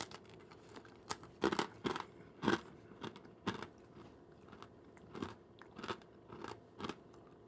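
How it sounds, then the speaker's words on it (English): Crunchy honey being bitten and chewed close up, a run of sharp, crackling crunches coming in irregular bursts with short pauses between them and no talking. "I'm going to have a bit of honey now."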